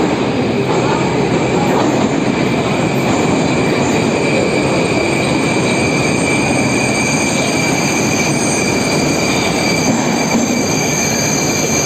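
A metro train runs with a loud, constant roar of wheels on rails, steady high squealing tones riding over the rumble throughout, close and with no talk.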